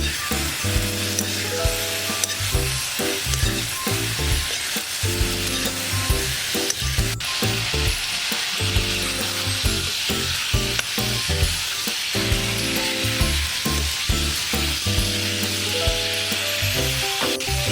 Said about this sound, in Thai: เราก็จะทอดไส้กรอกไปเรื่อยๆค่ะ